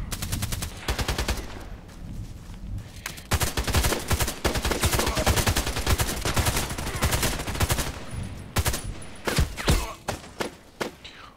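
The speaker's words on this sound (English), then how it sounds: "I would like to use the EBR marksman rifle now" A video game EBR marksman rifle fires a string of shots, some quick and close together and others spaced apart, each crack loud and sharp, with no one speaking.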